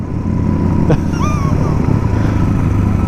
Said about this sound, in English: She hit rev limiter. Nice rev limiter!